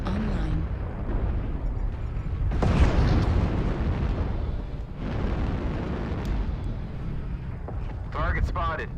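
Airstrike explosions in a mech combat game, heavy booming blasts rolling in waves with deep rumble, alongside in-game voice callouts.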